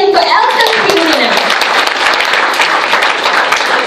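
A crowd bursts into loud applause, dense clapping that carries on steadily, with a few voices calling out at the start.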